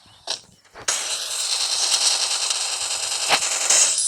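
Gunfire in a shooting video game with sniper headshots: a couple of sharp shots, then a sustained loud burst of rapid firing with a few louder cracks standing out.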